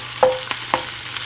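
Onions brown in a skillet for a one-skillet shepherd's pie with a soft steady sizzle, while a utensil stirs them with a few light scrapes and taps close by.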